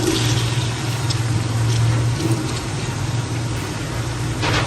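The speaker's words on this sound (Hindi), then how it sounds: "अब यहाँ हम टमाटर डाल रहे हैं।" Tomatoes go into a hot pan while a mutton Noor Jahan curry is cooking, giving a steady, dense sizzling hiss throughout with no talking.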